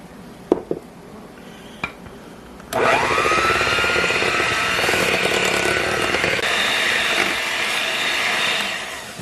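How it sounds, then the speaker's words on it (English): A hand mixer whisks eggs and milk into cupcake batter, starting after a few soft clinks and then running as a loud, steady whirring drone for several seconds before easing off at the end. "And we're going to whisk this together."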